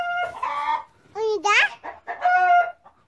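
Farm chickens clucking and squawking up close in short, bright bursts with pauses between, including a rising crow-like call, while a voice speaks nearby.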